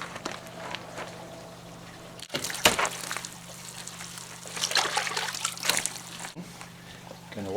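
Degreaser is washed over a scuffed, sun-damaged car panel before spray-can clear coat repair: uneven splashing and trickling water with bursts of wiping and dribbling, close and moderately loud.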